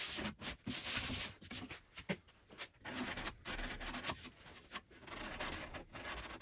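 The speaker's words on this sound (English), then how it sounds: "a little bit of very careful hand sanding on that maple face veneer" Hand sanding a maple face veneer with P180 abrasive paper: quiet, close, rhythmic rubbing strokes of scratchy friction, broken by brief pauses between passes.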